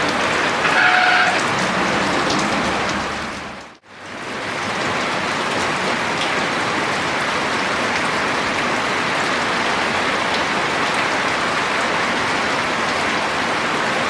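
Steady rain falls across a backyard with an orange tree, grass and a muddy patch, a dense, even hiss of drops that holds at the same level throughout, briefly dipping to near silence for a moment before resuming.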